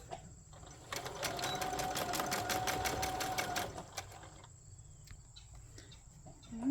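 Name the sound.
sewing machine stitching a seam on a boxy bag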